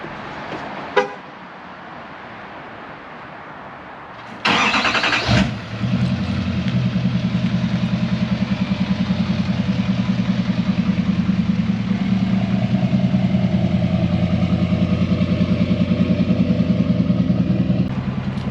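An L5P Duramax diesel truck engine, started by remote start, cranks with a brief loud burst, then catches and settles into a steady, rumbling idle that runs on without any voices.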